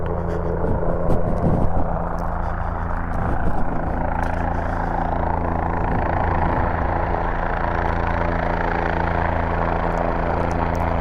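A Bell 206 JetRanger life flight helicopter drones loudly and close, its steady rotor thrum and engine hum continuous throughout with a faint rhythmic chop underneath.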